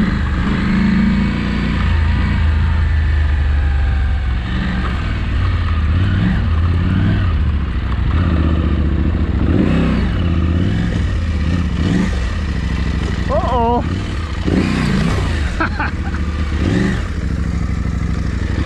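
A dirt bike ridden through a sandy wash, its engine loud and close throughout, revving and surging unevenly with rattling clatter as it churns along.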